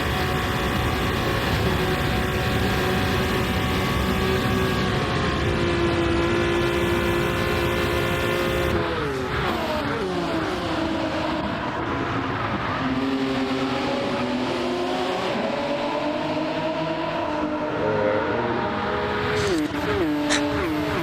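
A racing car's engine roars continuously up close through a race, its pitch rising and falling with gear changes, revs and braking into corners, with brief tire squeal and no break in the loud, steady drone.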